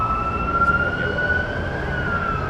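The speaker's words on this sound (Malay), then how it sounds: "itu bunyi ambulan." An ambulance siren played back in a lecture hall, a steady wailing tone held at moderate loudness over low rumbling background for a couple of seconds.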